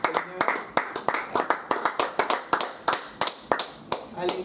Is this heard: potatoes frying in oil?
no